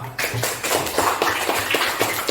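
A small group claps in a quick, steady rhythm of sharp taps at a school coaching session, close and fairly loud, with no voices over it.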